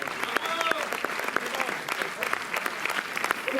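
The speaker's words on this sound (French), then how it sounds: "dans le même mouvement, on applaudit Constance de la société de distribution Le Pacte." A cinema audience at the Méliès in Montreuil claps briskly through a screening Q&A for the film Nos frangins, with a thick, continuous patter of applause and a voice faintly audible underneath.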